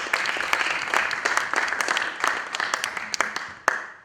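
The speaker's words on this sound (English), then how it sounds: "I think we should clap hands for that." A small audience claps hands together, a brief, moderately loud round with distinct sharp claps standing out near the end and no voices.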